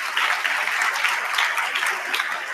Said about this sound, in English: there weren't quite as many loud claps for the last 2 as for the first one